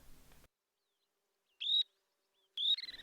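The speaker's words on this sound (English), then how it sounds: "We find hundreds of birds in the mudflats." Two brief, high-pitched shorebird calls ring out a second apart over lakeside mudflats at low tide, separated by near silence, with a faint noisy wash at the very start.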